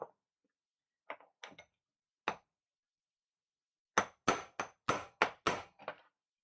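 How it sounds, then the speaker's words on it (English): Sharp hammer blows strike the shaft of a mountain bike, a few scattered single knocks followed by a quicker run of six or seven loud, evenly spaced hits, close by with no talking. "It is okay to hit the shaft as long as you hit it square and try not to round it over."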